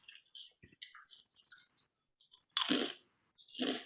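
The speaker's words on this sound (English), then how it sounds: "Is my crunching too loud?" Someone eating chips, with brittle crunching bites close to the microphone, small scattered crackles and then two louder chomps near the end, with no talk.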